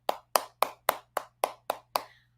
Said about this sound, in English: let's give a big round of applause one more time for Sanika and her